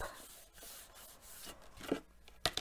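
Soft close-up rubbing as a stamped paper panel is burnished down by hand, quiet scraping strokes ending in a few small taps.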